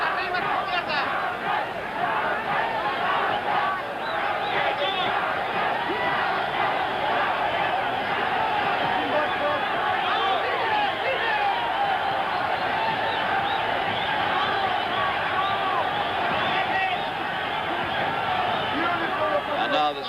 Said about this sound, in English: This crowd in this vast Astrodome in Houston, Texas, roaring the pair of them home.